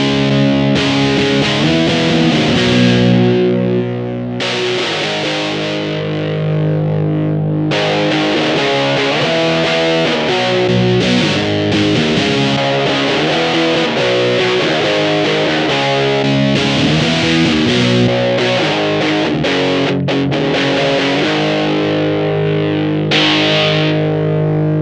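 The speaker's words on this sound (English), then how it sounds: "As I said, I would like to have like a broken radio sound." An electric guitar played through a Boss equalizer pedal set for a thin, broken-radio tone, giving loud distorted, band-limited chords and riffs with short pauses, played alone without talk.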